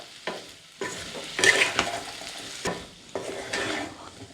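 Potatoes sizzle in a hot pan while a spoon stirs them, giving loud bursts of frying hiss broken by scraping strokes and short pauses, close and with no talking.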